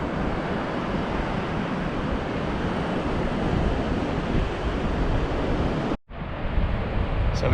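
Strong wind blowing on a North East Scotland shoreline during flounder fishing, a loud continuous roar buffeting the microphone with surf mixed in, briefly cutting out near the end before resuming.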